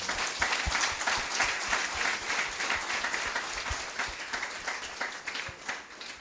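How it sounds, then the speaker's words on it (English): Audience applause at a strategic thinking workshop and expo, dense sustained clapping from a crowd filling the room steadily for several seconds without pause. "Let's give Butsia a big round of applause."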